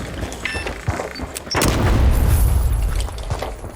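A C4 charge detonates in The Finals, a deep booming blast about midway through that rolls into a long rumbling tail, preceded by lighter game effects and pops.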